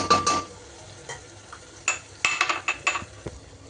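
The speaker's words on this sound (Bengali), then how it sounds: "তো এই আমাদের আদা রসুন এবার ঢেলে দিচ্ছি।" Ginger garlic paste goes into a cooking pot of mutton curry, with a series of sharp metallic spoon clinks and scrapes against the pot over a faint sizzle, no talking.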